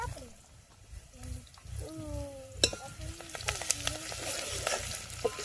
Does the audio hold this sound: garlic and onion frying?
yes